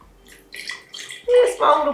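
Non-alcoholic wine poured into a glass for a small tasting, a brief close liquid gurgle and splash rising toward the end, with someone talking over it.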